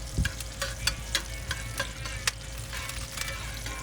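Butter melting and sizzling in a hot pan, spread around with a spatula before onions go in for grilled chicken thighs; a steady close crackle with scattered sharper pops and soft scraping ticks, no talking.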